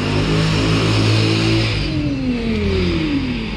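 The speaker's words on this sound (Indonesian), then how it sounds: "Jadi motor lalu lalang biasa." Motorbikes pass along a roadside, engines revving and droning loudly nearby, one pitch sliding down as a bike moves away, with steady traffic rumble underneath and no talking.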